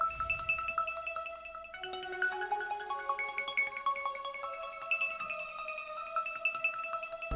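Simple synth melody line played from MIDI for a trap beat, with bright sustained tones stepping through a short repeating phrase under a steady ticking pulse, with no voices.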